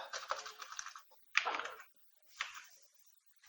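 Rapid key clicks on a computer keyboard while Java code is typed, coming in three short bursts separated by pauses, close and moderately quiet, with no talk.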